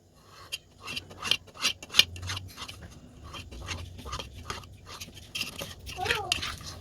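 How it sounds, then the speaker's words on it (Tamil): Knife slicing through set red jelly into pieces while making custard falooda, giving soft, irregular scraping and tapping strokes, fairly close and moderately quiet, with no talk. "இப்போ இதே போல் நம்ம ரெட்டையும் கட் பண்ணிக்கலாம்"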